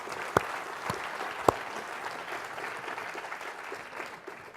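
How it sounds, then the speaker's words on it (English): An audience applauds at an evening lecture event, steady clapping spread across the room with a couple of sharper claps standing out near the start. "give them another round of applause"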